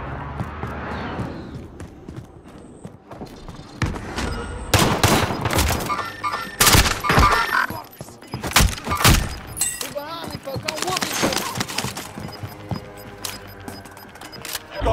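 Gunfire in the battle-royale game Warzone: several loud bursts of automatic shots and sharp cracks clustered in the middle, over game ambience, with shouted voices heard alongside.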